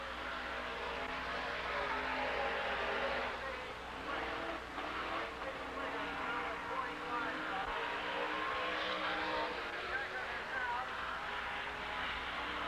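A late model race car runs a qualifying lap at Silver Spring Speedway, its steady engine drone held at a distance under a track announcer's continuous commentary.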